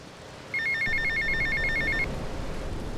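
A payphone ringing in the video game Grand Theft Auto: Vice City, one quick electronic trill-like ring lasting about a second and a half over steady background game ambience.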